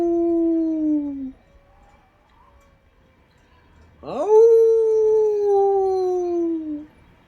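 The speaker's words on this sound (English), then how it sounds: "even the howling seems weaker now that I'm outside" Drawn-out canine howls in the video game Tsukihime, one falling howl fading out, then a pause, then a second rising-then-falling howl, clear and prominent against a quiet backdrop.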